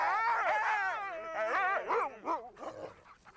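Sled dogs at the Jungfrau glacier terminus in the Swiss Alps whine, howl and yip together in a loud, continuous chorus of wavering cries, fading into scattered barks near the end.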